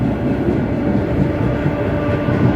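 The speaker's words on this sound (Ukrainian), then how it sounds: "Їду в поїзді електричці бік Ужгорода." Inside an electric commuter train heading toward Uzhhorod in western Ukraine, a steady, loud low rumble and hum of the moving carriage continues without a break, with no voices.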